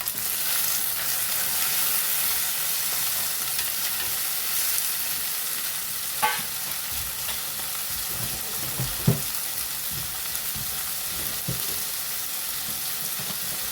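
Tomatoes frying in a pan for a Kerala-style black pomfret fish curry, a constant close sizzle with a couple of brief knocks and stirring clatters, no talking.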